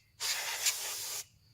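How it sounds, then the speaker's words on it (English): A can of compressed air sprays a drone clean in a single steady hiss lasting about one second, close and loud against near silence. "Get some compressed air to spray out your drone."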